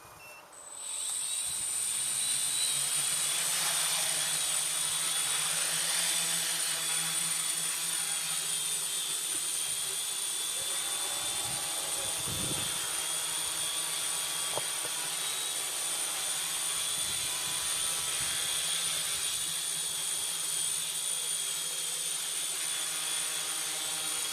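A quadcopter drone hovers in gusty wind with a steady, high-pitched electric whine that stays constant throughout, fairly close and unbroken.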